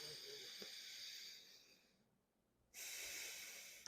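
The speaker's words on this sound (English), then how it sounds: "I call this alternate nostril breathing." Alternate nostril breathing: a long, airy inhale through one nostril, a brief quiet pause, then a strong, hissing exhale, close to the microphone in a quiet room.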